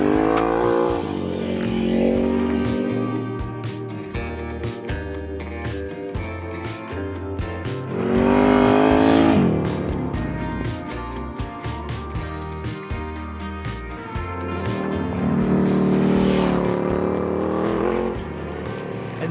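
A Ducati Scrambler motorcycle riding off paved road onto dirt, its engine droning steadily and loudly close by, swelling with two revving surges as it accelerates.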